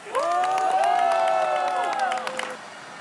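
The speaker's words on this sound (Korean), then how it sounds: "동료 조종사들은 열렬한 환호와 세레머니로 아쉬운 마음을 달래봅니다" Fellow pilots cheering at an air base for the final flight of a retiring F-4 Phantom II, a short burst of close shouting and whooping voices that swells and then fades.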